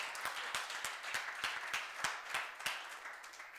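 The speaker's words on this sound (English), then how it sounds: "give a round of applause to our camera guy" Scattered clapping from an audience honoring the camera and production crew member at a live university event, a thin run of individual claps at a steady moderate level rather than a full ovation.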